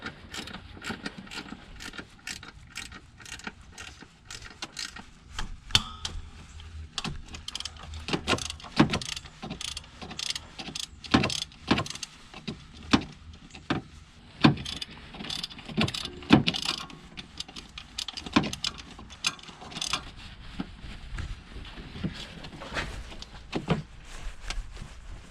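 Ratchet wrench loosening 14 mm bolts on a Subaru WRX pitch stop mount, giving rapid bursts of clicking ratchet strokes with brief pauses between, close and fairly loud with no talking.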